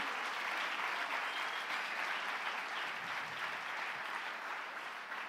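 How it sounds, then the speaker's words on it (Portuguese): A church congregation applauds during a sermon, a steady, dense wash of many hands clapping that holds evenly for several seconds without voices. "Pode aplaudir, porque isso é demais."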